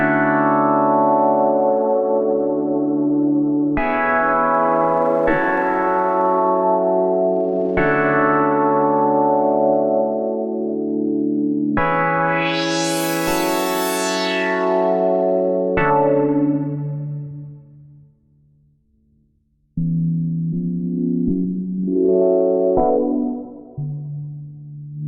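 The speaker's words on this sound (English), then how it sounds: "Start with the reverb." A TAL-Pha synth plays slow sustained chords with reverb added, each chord swelling and then trailing off in a long wash, loud and alone with no voices.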